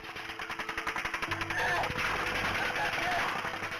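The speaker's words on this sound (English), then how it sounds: "The officers are pinned down by automatic gunfire." Rapid bursts of automatic gunfire aimed at police officers in Nevada rattle in a fast, even rhythm, fairly loud and continuous, with a voice speaking faintly beneath the noise.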